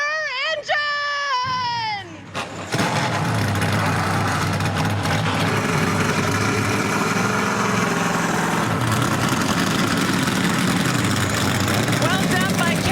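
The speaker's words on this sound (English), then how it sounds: "drivers, start your engine!" A field of ARCA Menards Series stock cars fires up together before a road-course race at Mid-Ohio, the engines catching after a brief burst of voice and then holding a loud, steady, rumbling idle.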